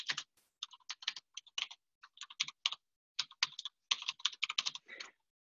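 Typing on a computer keyboard: quick bursts of light, crisp key clicks in uneven clusters with short pauses between, close up and quiet, with no talking.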